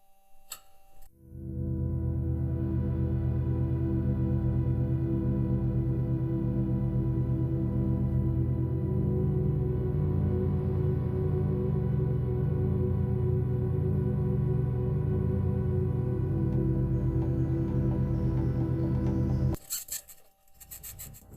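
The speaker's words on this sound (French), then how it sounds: "Ici, nous entendons le rover martien démarrer, suivi de coups métalliques." A Mars rover starts up with a long, steady mechanical hum and whir that runs for most of the recording, ending in a short burst of metallic knocking.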